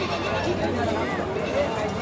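Goats bleat repeatedly amid the dense murmur of a crowded outdoor village market in Bangladesh, with many voices talking steadily throughout.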